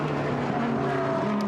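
GT race cars, including a Ferrari, run during Blancpain GT Series Endurance Cup free practice at Silverstone, their engines droning steadily at a distance with a rising, sustained tone.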